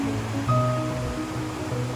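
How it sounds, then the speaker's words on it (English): The Cowsick River on Dartmoor flows in a steady, even rush of moving water, continuous and fairly close, with no talk. "So this is the Cowsick River, which flows down from the moors"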